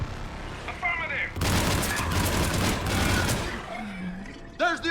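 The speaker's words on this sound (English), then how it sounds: "There's the artillery!" Artillery barrages thunder in the Mass Effect 3 ending battle, a dense, roaring run of blasts lasting a couple of seconds, with brief voices and radio chatter before and after.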